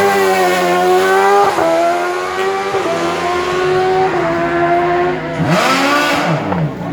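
A CM race car powered by a 1000cc motorcycle engine launches from the start of the Bettant hill climb, its high-pitched engine screaming through rapid upshifts, loud and close, then fading as it pulls away.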